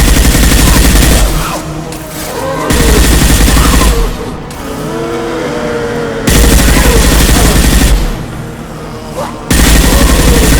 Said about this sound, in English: Concussive shot ready.